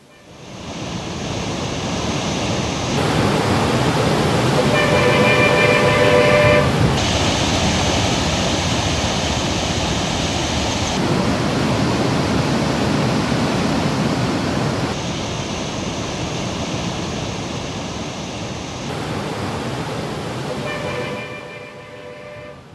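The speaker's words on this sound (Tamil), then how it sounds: "குன்னூர் மலைப்பாதையில் பல இடங்களில் புதிதாக அருவிகள் தோன்றி தண்ணீர் வெள்ளப்பெருக்கோடு ஓடுகிறது" Newly formed waterfalls gushing with floodwater beside the Coonoor ghat road, a loud, steady rushing roar broken into several back-to-back stretches that shift slightly in tone, with no voices.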